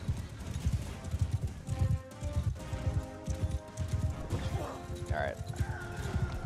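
Hooves clip-clop rapidly as a horse gallops in Mount & Blade II: Bannerlord, with a whinny near the end, mixed with game combat noise and a voice talking over it.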